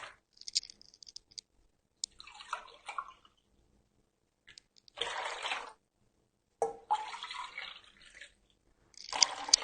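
Warm water is poured into a container for soft ačma bun dough, several short bursts of splashing and trickling separated by silent gaps, close and alone.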